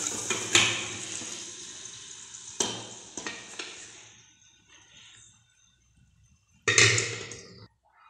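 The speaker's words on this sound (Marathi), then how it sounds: "इथं टाकते आता फोडणीला मूग." Cooked mung beans tip into hot oil tempering with a sharp sizzling burst, followed by stirring and scraping in the pan that fades, then a second loud sizzle near the end.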